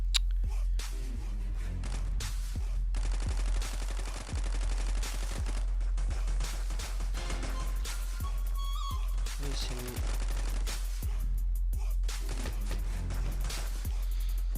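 Rapid automatic fire from an Uzi and other guns in the video game Flex City, steady bursts of shots running throughout at moderate level beneath someone talking.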